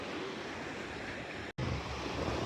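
Sea waves washing on a shore near Bulgaria, a constant soft hiss of surf with some wind, faint and steady apart from a brief dropout.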